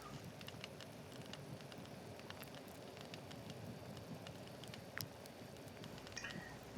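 A campfire crackles in the video game Wartales, faint and steady with scattered sharp pops over a soft hiss, and no voices.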